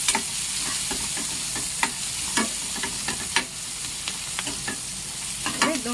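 Onions fry in oil for a Kathiyawadi peanut bhajiya curry, a close, steady sizzle punctuated by regular scraping strokes of a spoon stirring through the pan, with no talking.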